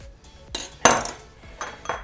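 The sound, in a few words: paring knife cutting avocado into small squares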